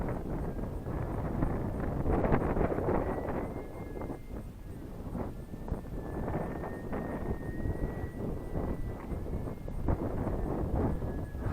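Strong wind buffets the microphone while out sailing, a rough, gusting roar that surges and eases across the whole stretch, loud and close with no clear voices.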